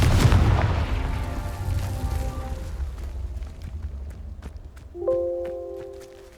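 A Confringo fire spell explodes in Hogwarts Legacy with a loud, booming blast that decays over a few seconds into crackling rumble, then bright chiming magical tones ring out.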